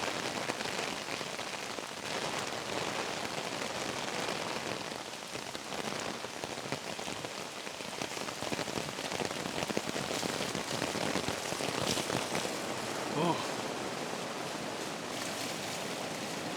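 Steady rain falling at a forest camp, a constant soft wash of drops pattering on surfaces, even and unbroken throughout with no voices.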